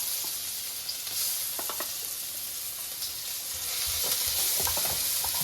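Garlic sizzles and crackles in organic olive oil in a pan, a steady close fry with occasional stirring clicks that grow slightly louder toward the end.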